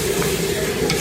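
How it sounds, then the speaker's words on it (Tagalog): Rice porridge (lugaw) being stirred without pause in a pot, a steady scraping, bubbling churn that continues evenly throughout at close range, with no voices. "Walang tigil ang halo para malapot."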